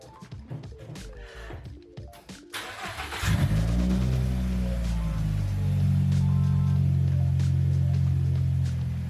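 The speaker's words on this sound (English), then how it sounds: "All that's left is to crank it and see." A car engine cranks briefly and catches after a fuel pump replacement in a garage during heavy rain, then settles into a loud, steady idle, with some rattling and clatter before the start.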